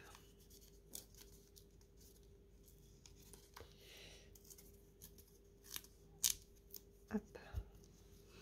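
Scissors cutting cross-stitch embroidery threads, a few faint, quick snips near the end of a quiet stretch with light handling rustles, and one brief spoken word.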